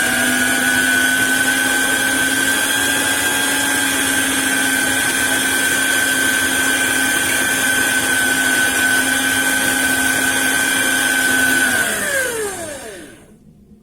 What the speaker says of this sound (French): tout en continuant de rajouter de la farine et de mélanger